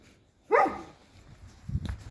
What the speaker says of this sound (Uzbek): Kuchuklar ko'p ekan.